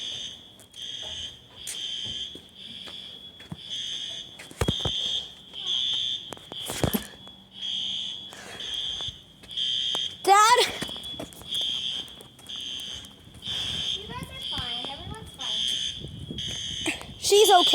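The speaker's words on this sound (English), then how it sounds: "The fire alarm." An apartment building fire alarm at the Briggs Village Apartments in Olympia, WA sounds a steady, loud, high-pitched electronic tone, repeated in rapid pulses for the whole stretch, while people talk and move about nearby.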